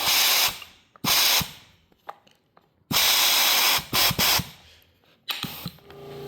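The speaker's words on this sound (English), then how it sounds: "I have not run this pump with my air compressor." Small air compressor powering a pump that pushes oil through a cylinder on a 1936 Allis-Chalmers WC tractor, loud hissing air blasts in bursts of about a second with pauses and light mechanical clicks between, close by and without talk.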